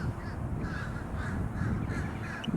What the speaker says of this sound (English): Oh, look, birds.